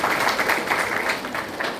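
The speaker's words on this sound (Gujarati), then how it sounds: "શ્રીને તાળીઓના ગડગડાટથી વધાવી દઈશું." An audience at a TB-free India nutrition kit distribution event in Nadiad breaks into dense, continuous applause, many hands clapping at once throughout.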